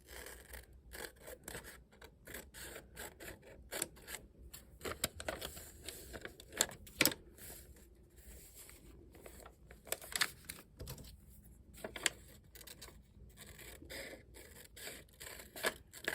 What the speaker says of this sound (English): There's my scissors. And I'm going to cut fairly close